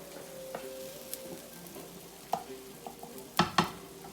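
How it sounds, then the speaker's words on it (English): Zucchini stirred into a pan of frying shrimp tagine, soft sizzling under a few sharp scrapes and clacks of the spoon, with a quick pair of louder stirs near the end. "So now we're going to throw in our zucchini. Just incorporate it."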